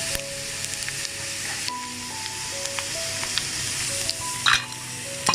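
Chicken pieces for pickle deep fry in hot oil, giving a loud, continuous sizzle and crackle with occasional stirring clatters and bubbling bursts, close up and without talk.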